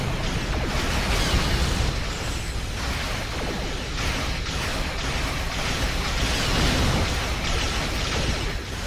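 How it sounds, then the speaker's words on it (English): Dense, continuous barrage of quantum torpedo blasts in a Star Trek Online space battle, loud bursts and booms overlapping with whooshes in an unbroken wall of noise, no voices. "So so many quantum torpedoes."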